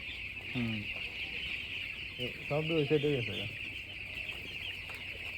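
Broiler chicks cheep in short bursts over a steady hum, with a brief cluster of chirps and a voice speaking nearby.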